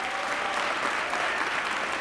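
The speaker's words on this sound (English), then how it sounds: "Give yourselves a round of applause for being here." Rally crowd clapping steadily and loudly at close range, a dense continuous wash of hand claps with no pauses across the whole stretch.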